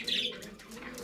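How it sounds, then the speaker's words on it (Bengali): Giant Kaldam pigeons are let go and flap their wings in a quick, close flurry of fluttering with faint chirps, short and moderately loud. "এই ছেড়ে দেখাচ্ছি পায়রাগুলো দেখুন"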